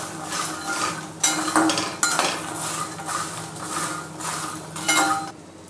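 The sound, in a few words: mixing makhana chiwada with salt in a pan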